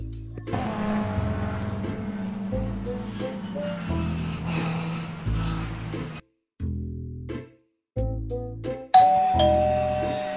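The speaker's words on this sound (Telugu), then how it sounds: "కాలింగ్ బెల్ కొడదాం" A calling bell at a house door is rung several times, each bright ding-dong chime ringing out clearly with short pauses of near silence between presses.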